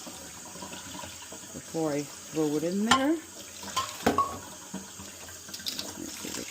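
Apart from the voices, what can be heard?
rinsing pot barley under running water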